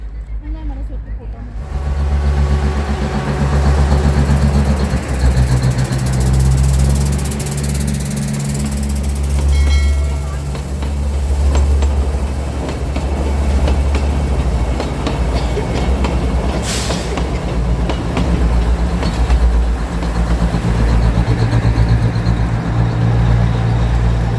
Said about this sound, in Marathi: बघा बोंगा असतो ट्रेन येते आहे